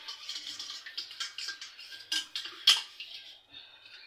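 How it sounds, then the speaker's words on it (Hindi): Dishes and utensils clink and clatter in a steady run of short, light knocks while being washed by hand, close and moderately loud, with a few sharper clanks near the end. "इसलिए मैं बर्तन साफ कर लेती हूँ"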